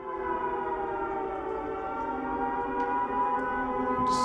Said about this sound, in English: Сирени.